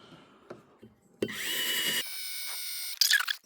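A power drill bores through a steel rail, its whine steady and loud for a couple of seconds, then dropping in pitch, with a sharp screeching burst at the end after a few light knocks.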